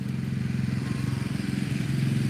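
A Briggs & Stratton 420 engine mounted on an old lawnmower frame runs loud and close, with a rough, steady chugging putter throughout.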